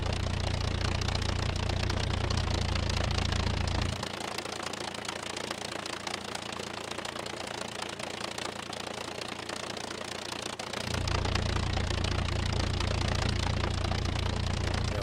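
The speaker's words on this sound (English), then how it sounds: "And that engine noise." A vehicle engine idles in the SCUM survival video game, a continuous loud droning rumble that stays steady throughout, its deep low end dropping away for several seconds midway before returning.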